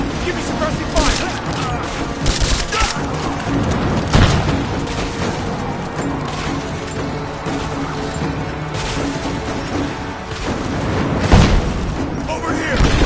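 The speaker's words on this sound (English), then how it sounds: "Give me suppressing fire!" Suppressing gunfire and booming blasts in the video game Rise of the Tomb Raider, a dense, continuous barrage of shots and impacts running throughout at steady loudness, with voices calling out over the fighting.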